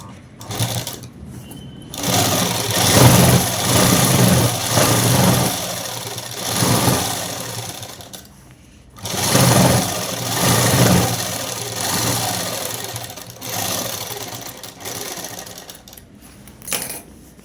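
A sewing machine stitches a shirt collar with a double row of stitches, whirring in several long, close bursts separated by short pauses.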